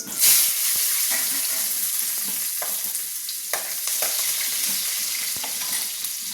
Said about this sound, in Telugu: ఆయిల్ వేడెక్కింది ఒక స్పూన్ తాళి గింజలు వేసాను ఒక ఆనియన్స్ కరివేపాకు